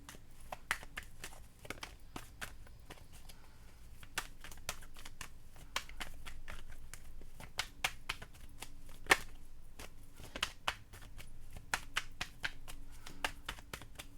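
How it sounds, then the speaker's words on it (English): Tarot cards shuffled by hand in a quiet room, producing a steady run of crisp riffling snaps and soft sliding rustles up close, with no talking. "One more shuffle"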